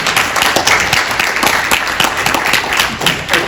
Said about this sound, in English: A round of applause for my friend Max Allan